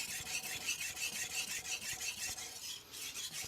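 Steel kitchen knife blade stroked across a Shapton Glass whetstone under moderate pressure, a run of rhythmic bright scraping rasps in quick back-and-forth passes, close and fairly quiet, with no talking.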